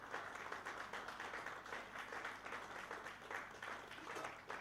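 Audience at a youth development stakeholders' luncheon applauding, a steady wash of many hands clapping, moderately distant and continuous throughout.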